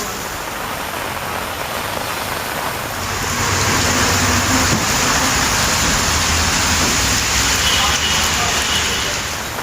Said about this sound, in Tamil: திருவள்ளூர் மாவட்டத்தில் இரவில் சுமார் 1 மணி நேரம் கொட்டி தீர்த்த கனமழை